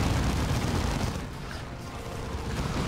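A grenade explosion in the strategy game Warhammer 40,000: Dawn of War II, heard as a dense, loud, roaring wash of blast noise and battle rumble that persists throughout with no clear pauses.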